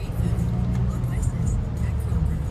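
A Porsche Panamera sedan's engine, set in sport mode, hums and rises in a low, steady drone from inside the cabin while a person talks over it.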